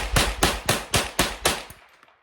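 Six evenly spaced sharp cracks from a Henry .22LR rifle firing Remington Golden Bullet ammunition, each shot loud and close with a short decay, followed by a brief quiet tail.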